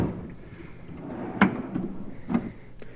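A Snap-on KRL761 toolbox drawer slides open with a couple of sharp metallic clunks and rattles over a low background hum, close and fairly loud.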